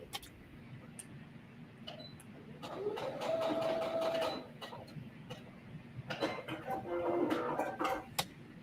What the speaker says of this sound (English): So I'm just sewing straight across the binding.